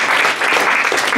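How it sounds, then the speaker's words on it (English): Brief, loud burst of classroom applause for a speaker, many hands clapping close together in a dense, even patter. "Round of applause for Ben."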